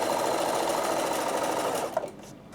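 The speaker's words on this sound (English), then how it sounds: "The foot's so good because it's going over that bar and forming a really, really nice satin stitch." A Bernina sewing machine running a satin stitch, a steady fast whirring hum close by that stops abruptly near the end with a small click.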